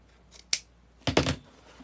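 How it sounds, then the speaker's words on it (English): Scissors snipping ribbon at an angle while making a spring bow, two short close crisp cuts with a quiet gap between, no talking. "No, I'm going to cut it at an angle."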